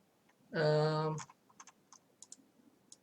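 A loud harmonic tone, then a few scattered quiet clicks like keystrokes, spaced irregularly and faint.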